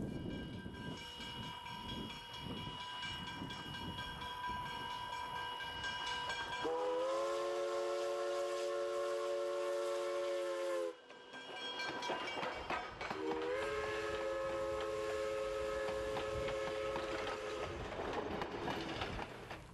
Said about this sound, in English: In Strasbourg, it's the railroad which reminds us we really are in the 20th century.